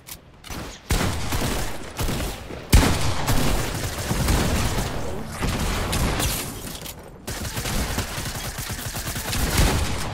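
Gunfire in the video game Fortnite during a team rumble match: repeated bursts of rapid shots and booms over ten seconds, loud and close, with brief gaps between volleys.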